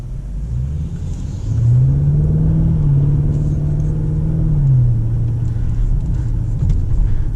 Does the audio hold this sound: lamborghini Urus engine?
yes